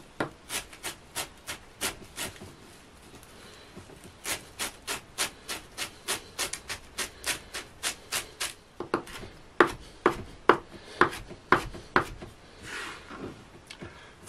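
A knife finely chops half a bunch of parsley on a board, giving quick, evenly spaced taps in rhythmic runs with a short pause, then sharper and louder strokes near the end.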